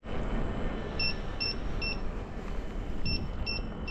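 Battery management system on an electric wheel sounding short high beeps, three evenly spaced chirps, a pause, then three more, faint over steady loud wind and road rumble while riding.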